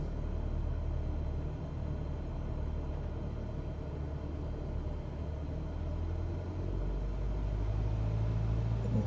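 Steady droning engine of a Cessna 172 light aircraft in flight in Microsoft Flight Simulator 2020, a continuous low rumble holding even and loud throughout with no talk.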